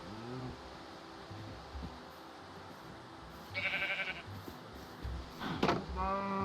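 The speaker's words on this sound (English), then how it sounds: "Sweet, we got sheep." Sheep in Minecraft bleating in short wavering calls, a few times across the scene, near and clear over quiet background sounds.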